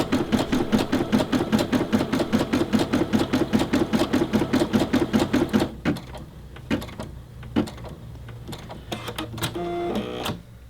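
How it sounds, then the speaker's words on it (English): Rapid stitching from a Brother SE600 embroidery machine stops abruptly, followed by scattered clicks and a short whirring, snipping thread-cutter mechanism near the end. "Now that noise you heard there at the end, that's the cutoff"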